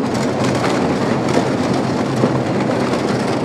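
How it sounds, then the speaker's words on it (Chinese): The Yongning full-face hard-rock tunnel boring machine, 7.23 m across and built to climb steep slopes, bores through a mountain on the far side of the rock. It makes a loud, steady, unbroken rumbling roar. "我们先给大家听一下在山的这一侧永宁号向前掘进的声音"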